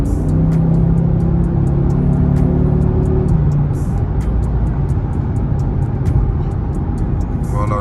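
An Audi RS3 on a public road with traffic, its engine a loud, close rumble that rises in a brief pull before settling into steady cruising, with road and wind noise beneath.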